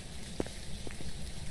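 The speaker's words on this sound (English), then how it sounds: "It's always heavy rain when I do no evidence." Heavy rain pours steadily in the ghost-hunting game Phasmophobia, a dense, even hiss with a few faint scattered drips standing out.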